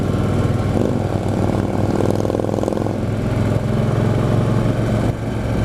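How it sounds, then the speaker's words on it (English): A CVO motorcycle engine running on the road ahead during a group ride, a loud, steady low rumble that drones continuously without pause. "Bike in front of me sounds really good"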